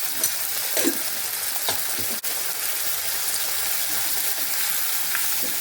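Bitter gourd pieces frying in a generous amount of oil in a pan, giving a steady close sizzle with occasional soft scrapes of stirring throughout.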